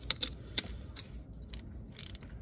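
An oil filter wrench grips and turns the oil filter on a 1997 Nissan pickup, making faint, close ratcheting clicks and metallic scrapes in short uneven bursts.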